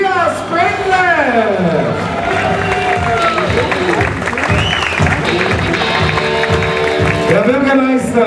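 Crowd at an international professional criterium cycling race in St. Anton on the Arlberg applauds and cheers the winner, loud and continuous under an announcer's amplified voice.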